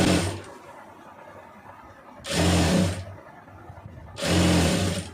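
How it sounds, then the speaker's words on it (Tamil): A sewing machine stitching a round neckline in fabric runs in two loud, close bursts of fast steady whirring, each lasting under a second, separated by quieter pauses with low background noise. "இப்போ அதில் அப்படியே தையல் போட்டுருங்க"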